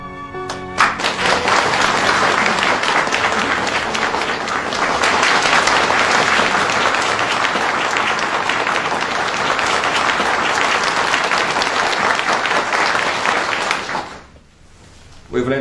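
An audience applauds after a speech in a military setting, a loud, dense roll of clapping that lasts about fourteen seconds before cutting off abruptly.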